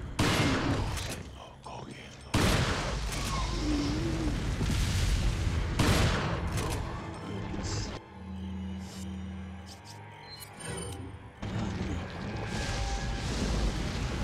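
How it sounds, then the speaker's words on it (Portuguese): Shotgun blasts in Resident Evil 4, a few heavy booming shots spaced seconds apart amid game ambience and clatter, fairly quiet overall. "Aqui duas escopetadas já resolve."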